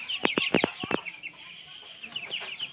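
Farm chickens, kept under winter care, cluck in a quick cluster of sharp close calls, then a few softer, scattered clucks trail off.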